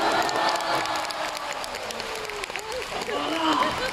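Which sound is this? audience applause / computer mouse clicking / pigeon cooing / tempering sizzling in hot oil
audience applause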